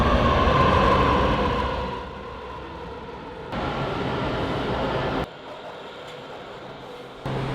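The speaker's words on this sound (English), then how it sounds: "That's one of the trains." A subway train rumbles and rushes steadily nearby, its roar shifting in level with abrupt changes as cars pass, no voices.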